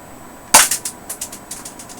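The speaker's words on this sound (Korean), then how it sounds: "무조건 한 방 쏠 때마다 장전, 발사, 네 이런 식입니다" An Academy AGF FNS-9 toy pistol kit fires once with a sharp snap. A quick series of light plastic clicks and rattles follows, all close and clear with no speech.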